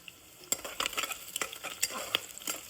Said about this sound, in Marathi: कांदा लाल करायला टाकलाय.